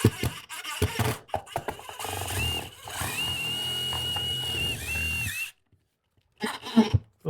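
Power drill boring into a metal wall bar inside a cargo trailer, a steady whining run of a few seconds after some clunks and handling knocks, then a short silence and more knocks.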